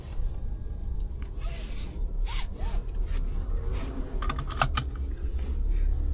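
A car seat belt in a 2025 Toyota Hyryder is drawn across and buckled: a soft slide of webbing, then a quick cluster of sharp, close latch clicks, with no talking.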